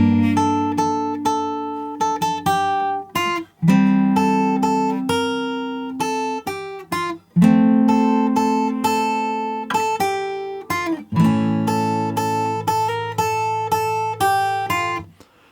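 Fingerstyle acoustic guitar plays the bridge of a song, with plucked bass notes and chords under repeated melody notes in a steady rhythm, close and clear with no talking.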